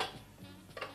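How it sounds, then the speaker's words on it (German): Plates, glasses, cups and cooking pots rattle and clink together in a basket, a soft jumble of close clatter with a brighter chink near the end. "bring bitte den Korb mit dem Geschirr zum Auto"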